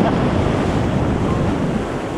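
Big ocean waves break near a beach grotto on the Brazilian coast, a loud, continuous wash of surf close by, mixed with steady wind rumble on the microphone and no voices.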